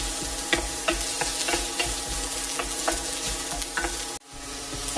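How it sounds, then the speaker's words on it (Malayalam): Sliced onions sizzle in hot coconut oil in a pan, a loud, continuous close-up frying hiss with the regular scrape of a spoon stirring, which stops abruptly near the end. "ചൂടായ വെളിച്ചെണ്ണയിലേക്ക് സവാള ചേർക്കാം സവാള ഒന്ന് വഴന്നു വരണം"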